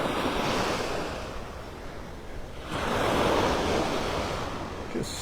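Ocean surf rolls onto the beach at Delnor-Wiggins Pass in North Naples, Florida, two broad swells of wave wash rising and falling under steady wind noise on the microphone, no voices.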